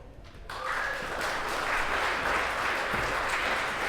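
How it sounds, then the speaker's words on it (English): Sustained applause from a panel-discussion audience erupts after a brief quiet moment and continues steadily, dense and fairly loud, with no one speaking. "So applause to Hilary."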